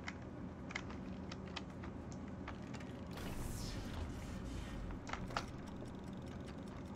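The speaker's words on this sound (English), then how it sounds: "Oh, that sounds like a timer." Soft mechanical ticking from a timer mechanism in the video game Little Nightmares, a quiet, irregular run of clicks over a low rumbling background.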